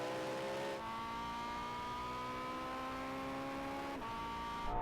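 Ferrari LaFerrari hypercar accelerating hard in a drag race, a loud, steady rising engine whine climbing in pitch, a brief break for a gear change, then climbing again.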